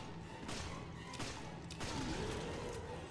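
Gunfire in the co-op survival horror game Resident Evil Revelations: a few separate thudding shots at roughly half-second gaps, fairly faint and muffled, over a low steady game background.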